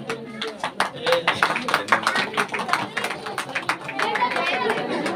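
Audience applause at a prize ceremony for children during a women's birth-anniversary celebration: steady crowd clapping throughout, mixed with chatter and an announcer's voice talking over it.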